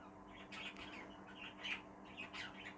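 Birds in an aviary give faint, scattered chirps and short squawks, repeating every half second or so over a steady low hum.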